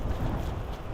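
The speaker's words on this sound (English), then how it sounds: "It's awfully windy out here." Strong night wind buffets the microphone on a New York City pier, a steady, rumbling low roar that fills the whole moment with no voices.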